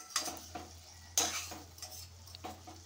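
Moong dal fries in a pan with tempering, giving soft sizzling under brief scrapes and clinks of a stirring spoon, with louder bursts of activity at intervals and a steady low hum behind.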